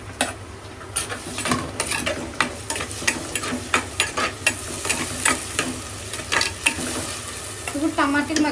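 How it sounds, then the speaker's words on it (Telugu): Tomatoes frying and being stirred in a pan with browned onions, a steady sizzle broken by repeated scraping stir strokes at a close, even rhythm, with no talking. "ఇప్పుడు మనం ఇందులోని టమాటోస్ వేసుకుందాం."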